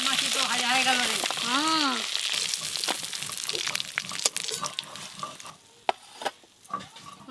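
Fish and crabs fry in oil in a pan, with dense sizzling and stirring clatter up close. A voice talks briefly at the start, and a few sharp knocks come near the end.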